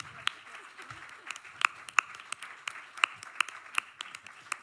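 Sparse, fairly quiet clapping from an audience at a Barcelona poetry slam and recital, scattered individual claps rising over a soft room murmur rather than full applause.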